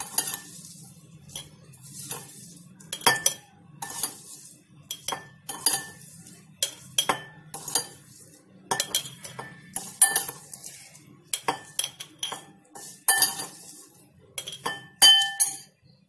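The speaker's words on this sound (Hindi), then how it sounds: "यहाँ पर मैंने सभी मिर्च को जार में डाल दिया है इस तरीके से" Green chillies dropped by hand into a glass jar for vinegar pickle, a string of bright clinks and rattling taps in irregular bursts, close and clear with quiet gaps between.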